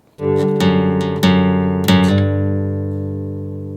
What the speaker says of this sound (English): This has a very powerful low end for being a classical guitar.